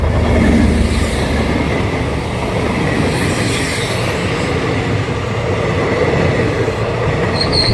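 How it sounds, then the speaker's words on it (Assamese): A passenger train rolls past at the spot where a train once derailed under a bridge, its steady, loud rumble and rattling wagons filling the whole stretch, with faint wheel squeal riding on top. "এইখনেই হ'ল সেইখন ৰেলখন।"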